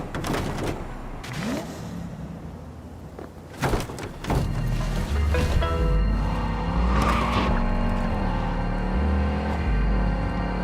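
A car races and skids in the Cyberpunk video game, engine revving up and down with sharp tire squeals and sliding screeches, punctuated by impacts, loud and close throughout.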